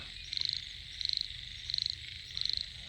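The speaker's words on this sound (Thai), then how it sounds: "ไดยินเสียงกบเสียงเขียดเสียงแมงห้องครับ" Frogs call in an evening countryside setting with insects chirping, four evenly spaced bursts of rapid pulsed croaks over a steady insect drone, moderately near and with no voices.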